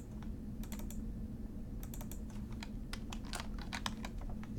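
Quick bursts of keystrokes on a computer keyboard, clusters of sharp clicks with short pauses between, close and clear over a low steady room hum.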